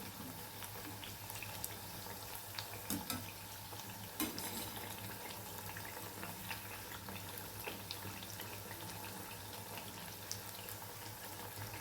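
Puris frying in hot oil as they are flipped over, a continuous soft sizzle and bubbling with occasional sharp clicks and scrapes of a utensil.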